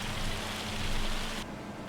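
Hail falling in the video game Farming Simulator 25, a steady dense patter with a constant faint background hum, cutting off abruptly near the end.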